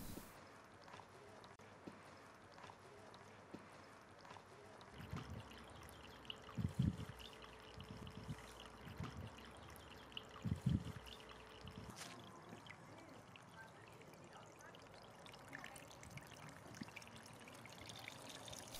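Garden-hose water trickling and pouring over the stones of a newly built garden stream into a grid basket, a soft, quiet flow with a few louder splashy bursts midway.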